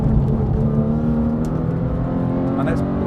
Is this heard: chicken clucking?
no